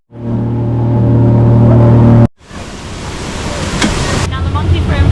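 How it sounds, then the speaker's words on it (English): Powerful Grand River waterfall in Mauritius, a loud continuous broadband roar of rushing, splashing water that cuts out briefly and then resumes, with a faint voice in the background. "The Grand River waterfall. You get some serious splashback from it because it is so powerful."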